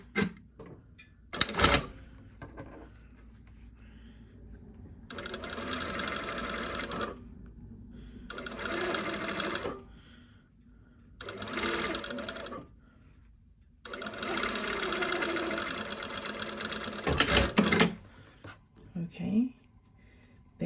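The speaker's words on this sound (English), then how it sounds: "I'm going to stitch right along that fold line" Sewing machine stitching along an opened fabric fold line, running in several bursts of a few seconds each with quiet pauses between, close and clear.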